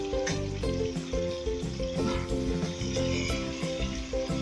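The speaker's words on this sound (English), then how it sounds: "So let's allow this to fry for a bit." Garden egg sauce fries in a pan with a steady close sizzle and soft bubbling spatter, continuous and moderately quiet, with no talking.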